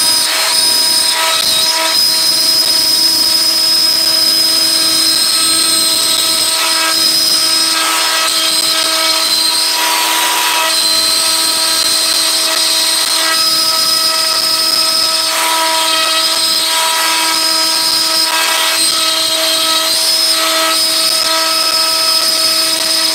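A Makita 1/2 inch router carving letters into a wooden sign, a loud, steady high-pitched whine with brief dips and surges as the bit cuts, sustained close up with no talking.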